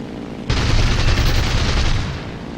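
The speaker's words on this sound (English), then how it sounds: "there are so many planes around that it's not really a problem. Just pick one and keep shooting." Fw 190 A5 fighter plane in a combat flight video game firing a sudden, loud, sustained burst of machine-gun fire over droning engine noise, lasting about a second and a half before easing off.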